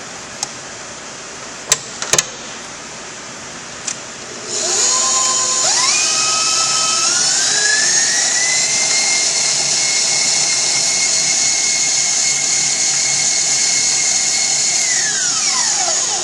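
An electric hand mixer whirring through cinnamon roll frosting, preceded by a few sharp clicks and knocks, then revving up to a loud, steady high whine that holds and winds down at the very end.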